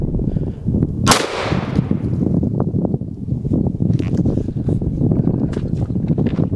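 A shotgun fires a single loud blast of double-aught buckshot into a ballistic gel head outdoors, the sharp crack ringing out over steady wind noise on the microphone before fading back into a gusty outdoor hiss.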